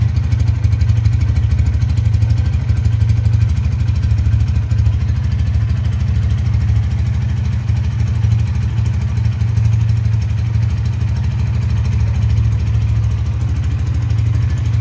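A Honda Tiger Revo or CB150R motorcycle engine idles, a steady low, slightly uneven putter with a popping, misfiring character, loud and close for the whole stretch.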